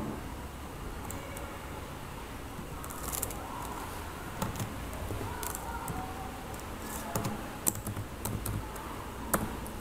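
Continuous close keyboard typing of a Telnet command at a Windows command prompt, steady clicking keystrokes over a constant background hum.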